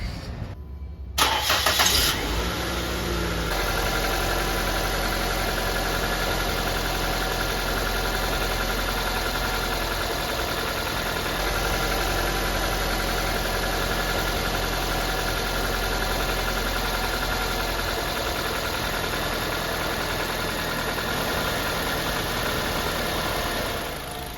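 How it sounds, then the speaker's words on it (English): A car engine with a suspected head gasket fault and overheating cranks and catches after a brief starter whir, then settles into a steady, even idle that continues for the rest of the clip. "And let's go turn on the engine."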